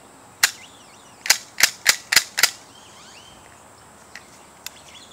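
A CR .357 pellet revolver is fired down at the floor: one sharp crack, then five more in a quick uneven burst. Faint clicks follow in a quiet room.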